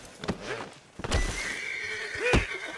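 A horse in the video game Red Dead Redemption 2 neighs and whinnies loudly in several close, rising cries, with hoof clatter and game noise around them.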